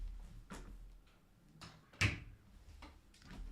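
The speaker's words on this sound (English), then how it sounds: "Let me close the door." A door is shut indoors in a home where a cat roams, giving one sharp, fairly loud thud mid-clip between softer bumps and rustles, with faint background noise.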